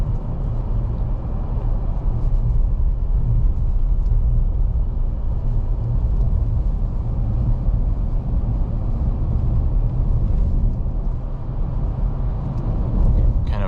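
Wind and road noise inside a 2022 Nissan Frontier PRO-4X truck on the move: a steady, fairly loud low rumble and hiss throughout, with no talking.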